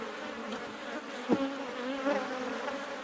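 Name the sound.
honey bees buzzing in a hive brood nest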